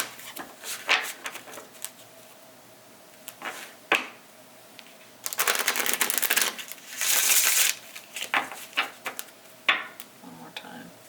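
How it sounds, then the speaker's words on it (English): Tarot cards are shuffled by hand in a series of crisp, papery riffles and taps, with two longer bursts of rapid shuffling near the middle, close up and moderately loud, separated by short pauses. "Let me shuffle this real quick."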